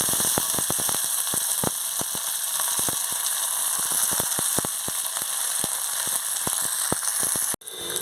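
Mustard seeds, cumin and curry leaves fry in hot oil for a Mangalorean tempering, giving a loud, continuous sizzle. Many sharp pops and crackles burst irregularly throughout as the seeds splutter, with a brief dip near the end.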